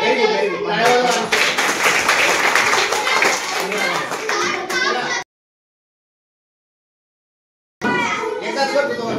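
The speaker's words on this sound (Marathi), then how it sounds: "व्हेरी गुड टाळ्या वाजवा." Children at a quiz competition clap together in a loud, busy burst of many hands that runs for several seconds, cuts off into silence, then returns briefly with more clapping and young voices.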